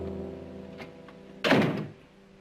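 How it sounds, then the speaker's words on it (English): A door shuts with a single solid thunk after a moment of quiet room tone, close and fairly loud, followed by a brief fading rattle. "Close the door."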